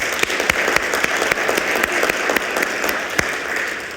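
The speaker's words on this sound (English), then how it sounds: "could we give them a round of applause?" A lecture audience gives the artists a brief round of applause, a moderate crowd of hands clapping steadily with a few sharper individual claps standing out, lasting about four seconds.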